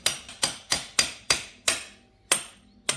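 A hammer strikes a hollow bolt on a Yamaha TTR250 trail bike, tapping it out in eight sharp metallic blows at a steady, slightly uneven rhythm, each ringing briefly before the next, close and clear with no talk.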